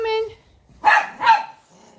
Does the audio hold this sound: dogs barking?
yes